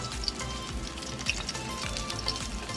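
Stuffed green chile peppers for chiles rellenos fry on low, slow heat, making a steady, dense crackling sizzle with small pops, close and continuous throughout.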